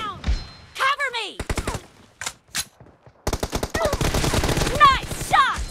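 Gunfire in a multiplayer shooter video game played in a 1v3 room match: rapid bursts of shots and sharp single reports, loud and close, mixed with game effects and some voices.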